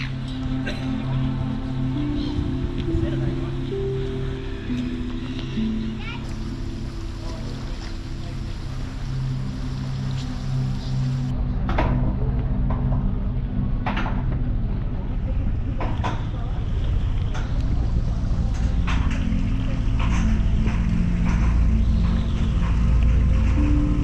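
A passenger ferry crossing from Paihia to Russell in New Zealand's Bay of Islands, with a steady engine drone and rushing water under wind buffeting the microphone, continuous and close throughout.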